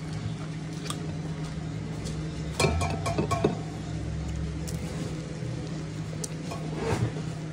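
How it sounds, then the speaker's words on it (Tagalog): A knife slices through biko, a sticky rice cake, in its baking pan, with a short cluster of clinks and scrapes midway and occasional soft taps against a quiet steady background. "Hiwa-hiwain ko lang."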